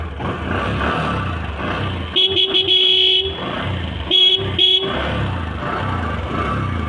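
A second-hand Bajaj Discover 125cc motorcycle runs steadily with a loud, close engine rumble, broken by two horn honks in the middle.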